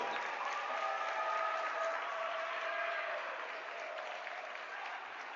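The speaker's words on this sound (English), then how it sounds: "please give a big round of applause to all our seniors" Steady applause from a crowd in a high school gym honors the seniors on senior night at a Lewis County vs Fairview boys basketball game, sustained and fairly even with a faint tonal murmur beneath.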